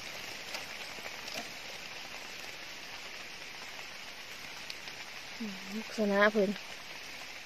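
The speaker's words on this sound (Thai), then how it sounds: "ฝนตกอีกแล้วจ้ะพี่น้อง" Rain falls in a steady, even hiss over a forest where people are out hunting wild mushrooms. A voice speaks briefly near the end.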